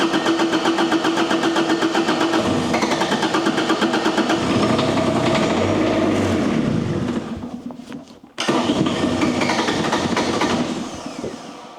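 A Bobcat skid steer engine runs steadily at throttle with a loud, close mechanical drone, dips briefly as it bogs down, then recovers to its steady roar.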